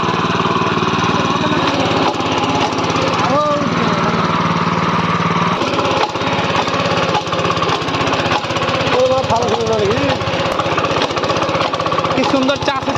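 A small power tiller engine ploughing a farm field in first gear, loud and close with a constant chugging drone, while someone talks over it.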